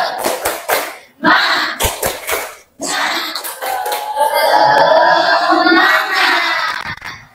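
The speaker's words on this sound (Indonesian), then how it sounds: "Tepuk semangat." Classroom group doing the rhythmic "tepuk semangat" clapping ice breaker: sharp bursts of patterned claps alternating with chanted voices, loud and close, with a sustained stretch of mixed clapping and group vocalizing.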